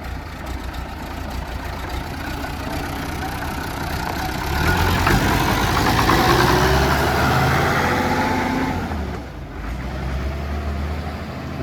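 Massey Ferguson 399 tractor engine running as it pulls away, a continuous mid-pitched diesel drone that grows louder for a few seconds, eases back, then carries on steadily.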